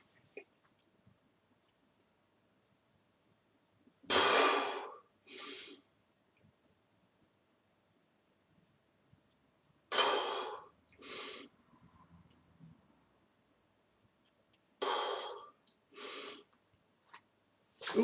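Deep nasal breathing during a home burpee workout: three paired sequences of loud, rushing breaths, each a long inhale followed by a shorter one, spaced several seconds apart with quiet between.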